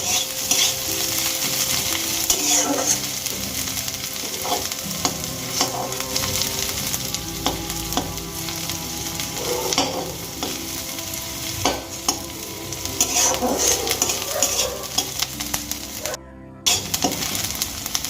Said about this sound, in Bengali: পেঁয়াজগুলো খুব বেশি ভাজার প্রয়োজন নেই, হালকা ব্রাউন হলে আমি পেঁয়াজগুলো তুলে নেব।